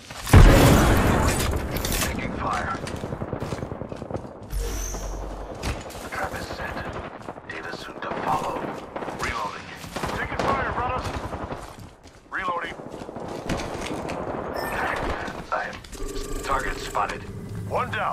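Enemy gunfire in Apex Legends: repeated close, sharp shots and bursts of automatic fire crackle in clusters throughout, with mechanical clicks and impacts between them and a voice talking over parts.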